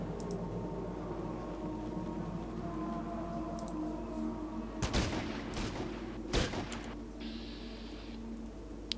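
Two sharp gunshot bursts in the turn-based video game Fallout Tactics: Brotherhood of Steel, standing out above a low, steady game background hum, with a brief electronic tone afterward.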